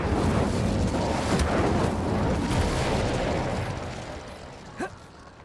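An Incendio fire spell in the Hogwarts Legacy video game gives a sustained roaring, crackling whoosh of flame with several sharp bursts, fading toward the end before a last small pop.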